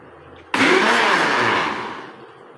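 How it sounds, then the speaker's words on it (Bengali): A kitchen blender starts up abruptly and runs at a loud steady whir while blending pudding ingredients, then its pitch softens as it slows near the end. "ব্লেন্ডারে দিয়ে সব কিছু ব্লেন্ড করে নিব।"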